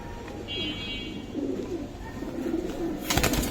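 A pair of Chila pigeons kept together coo low and intermittently nearby, with a soft rustle and a brief sharp burst near the end.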